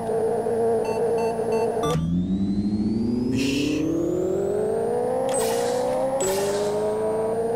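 Car engine in a Pixel Car Racer drag race, revving hard and climbing steadily in pitch through several gear shifts, each shift marked by a brief drop and burst before the whine rises again, loud and close.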